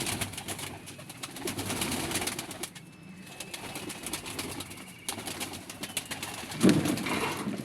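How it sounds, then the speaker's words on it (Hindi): Domestic pigeons in a loft coo repeatedly, soft low purring calls close by, mixed with rustling and a brief louder burst near the end. "ये है हमारे पास कबूतर।"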